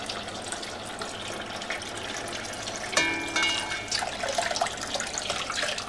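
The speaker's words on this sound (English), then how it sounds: "Easiest way to do that is just float them in some nice cold water" Water sloshing and trickling as freshly harvested elderberries are gently agitated in a bowl of cold water, a steady soft wash with a brief splashier stir partway through.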